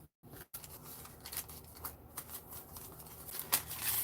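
Small paper cards pulled from a junk journal envelope, with soft close rustles, slides and light flicks of paper after a brief silence, fairly quiet and steady, no voices.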